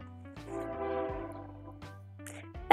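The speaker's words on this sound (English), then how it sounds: "the train has decided to pass right now" A train passes outside an open window, its low rumble and tonal horn-like hum swelling and fading, moderately loud and distant, with no talk over it.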